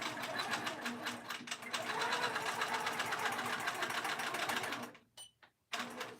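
A sewing machine quilting a cross-stitch pin keep runs steadily with a fast rapid needle rhythm, close and continuous, stopping briefly near the end before starting again.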